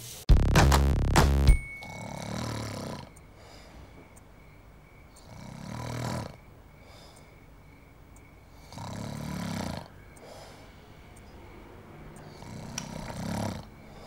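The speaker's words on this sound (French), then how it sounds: "tu ronfles" A man snores in long, rhythmic breaths, each rasping inhale rising and fading at steady intervals in a quiet room after a brief loud burst at the start, from a French comedy sketch.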